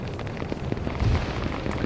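Explosions from X-Wing bombing runs in a modded video game: a muffled, rumbling blast swells in the middle of a steady low roar, fairly loud and close, with no speech.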